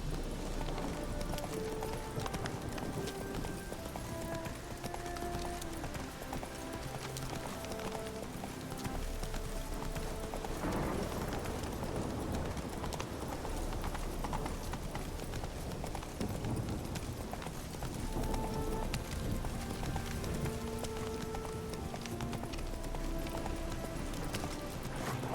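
Hooves of Roach, a horse in The Witcher 3, pound in a steady galloping clip-clop, continuous and close, layered over in-game music.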